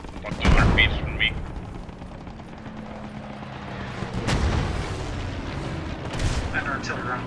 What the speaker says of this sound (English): That artillery round dropped right on my head while on that MG.